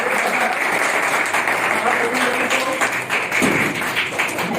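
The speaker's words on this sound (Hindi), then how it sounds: "जोरदार तालियां राधा देवी मैडम के लिए" A crowd applauds Radha Devi madam at a Nehru Yuva Kendra farewell program in Mumbai, dense sustained clapping with some taps and thumps, fairly loud, while a voice speaks over it.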